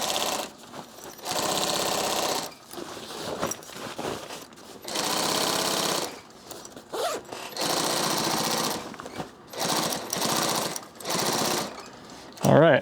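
Sewing machine running in repeated loud bursts, stitching the last seam of a backpack over the straps, grab handle and lid, with short pauses between runs.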